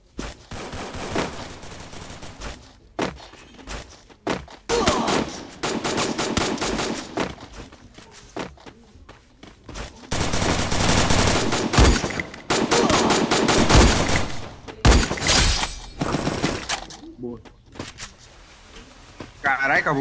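Bursts of rapid automatic gunfire from a mobile shooter video game come in repeated loud volleys with short gaps, while someone talks excitedly over the shooting.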